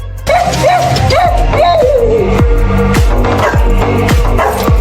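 A pet dog barks repeatedly in a movie scene, a loud string of yips and barks in quick rhythm, set over a dense background of music or scene sound.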